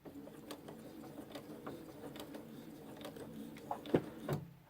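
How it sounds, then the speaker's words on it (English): A sewing machine stitches across the bottom of a backpack with a quiet, steady mechanical whir and light rhythmic ticking. A few louder clunks of handling come near the end. "I'm going to quickly sew this off so that it doesn't come apart on me while I'm putting it in the bag."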